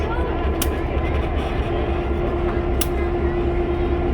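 A 1950 General Motors EMD diesel-electric locomotive, Nashville, Chattanooga and St. Louis 710, rotates on a railway turntable, giving a steady loud engine drone with a faint tonal hum and a couple of brief metallic clicks.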